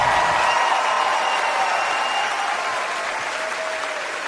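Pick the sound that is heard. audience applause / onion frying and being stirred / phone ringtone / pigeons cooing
audience applause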